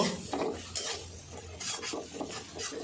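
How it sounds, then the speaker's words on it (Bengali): Ginger garlic paste being sautéed and stirred in a pan for a prawn and bottle gourd curry, with a faint sizzle under repeated scraping and clinking strokes of a metal spatula, close by, no talk. "এবার আমি দিয়ে দেব আদা রসুনের পেস্ট আদা রসুনটা দেওয়ার পরে ভালো করে কষে নেব"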